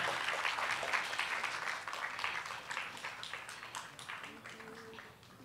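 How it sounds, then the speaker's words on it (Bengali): An audience applauds in the Sisir Mancha hall during a gala inauguration, a dense crowd patter that is fairly faint and slowly thins out toward the end. "তাই হাততালিটা খুব জোরে হোক এবার।"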